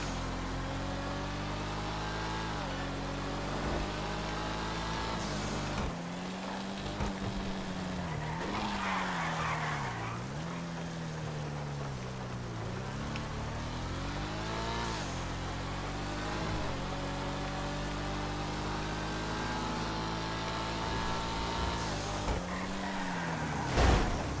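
In GTA 5, a car accelerates and skids on a wet road, its engine droning and rising and falling in pitch while tires squeal repeatedly, a continuous, prominent racing sound for over twenty seconds with no talk.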